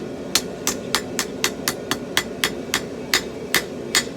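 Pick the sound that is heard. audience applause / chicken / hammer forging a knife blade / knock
hammer forging a knife blade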